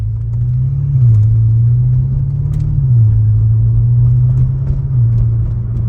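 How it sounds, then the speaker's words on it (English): An 850hp BMW M5 fitted with front mount intakes and a downpipe drones steadily up close, a loud low engine and turbo note that rises and dips in gentle waves as throttle changes, with no voices. "All you can hear is straight turbo noise and it sounds wonderful."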